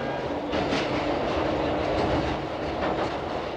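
A Glasgow Underground train runs on its rails with a steady, loud rumble and rhythmic clacking of the wheels, close and continuous, with no voices.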